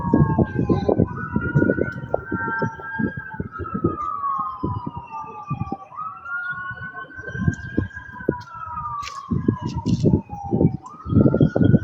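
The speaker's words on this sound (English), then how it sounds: "Now we hear all of those sirens going" Emergency vehicle sirens wail and rise and fall through the whole stretch, with more than one siren overlapping, over rumbling road traffic and intermittent low thumps.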